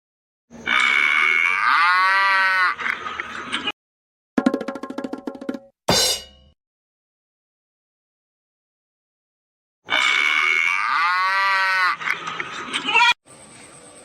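A cow moos loudly several times with long, drawn-out calls, separated by silent gaps and a few brief clattering sounds.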